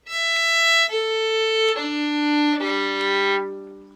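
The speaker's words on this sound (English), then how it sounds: "So going from the highest string to the lowest string on the violin," Four sustained bowed violin notes on each string from highest to lowest, each lower than the last, stepping down from a bright high tone to a deep low one.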